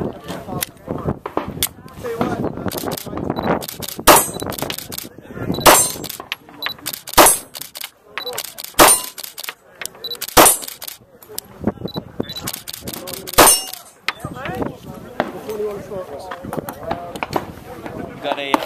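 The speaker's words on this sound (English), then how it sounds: "We're going to shoot the elusive Glock 42 today in 380." Glock 42 pistol firing .380 rounds at an outdoor range during a media shooting day, with sharp shots ringing out at irregular intervals among other distant gunfire and people talking.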